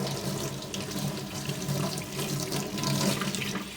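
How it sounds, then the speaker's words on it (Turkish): A pet bird's water bowl being washed under a running tap, a continuous splashing stream of sink water with uneven spatter as the bowl is rinsed, moderately close and without talk. "şimdi şu şeyi bir yıkayayım. Suluğunu bir yıkayayım."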